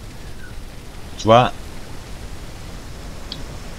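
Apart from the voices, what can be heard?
rain in the video game Eden Island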